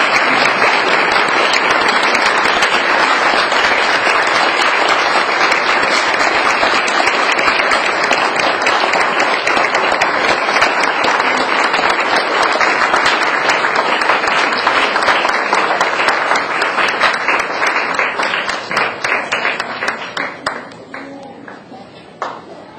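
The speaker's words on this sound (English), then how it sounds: "I'd like everyone to stand and give a big resounding applause for our Lifetime Achievement Award winner tonight" A standing audience gives loud, sustained applause for a Lifetime Achievement Award winner at an awards ceremony, dense clapping filling the room for about twenty seconds before tapering off near the end.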